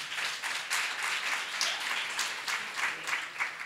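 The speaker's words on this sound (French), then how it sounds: "Je pense que ça mérite encore plus d'applaudissements" Audience applause at the close of a presentation at a media and juniors event, a fairly faint, even wash of many hands clapping steadily for a few seconds with no voices over it.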